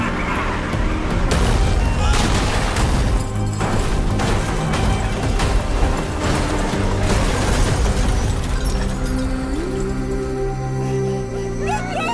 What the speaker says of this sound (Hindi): एक ही तो गोली चली है गीता जी।